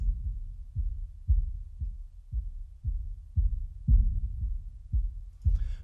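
A pulsing piano patch called Box Factory from the Homestead Piano sample library, heavily filtered so only a dull low thump remains, beating in a steady heartbeat-like rhythm about every half second, close and alone, with a brief brighter swell at the end.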